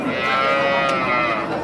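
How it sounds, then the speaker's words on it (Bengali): A large Holstein Friesian cow at a cattle market gives one sustained, loud, close-up moo lasting the whole moment. "এইটা তো বড় সড়ো গাভী, হলস্টাইন ফ্রিজিয়ান"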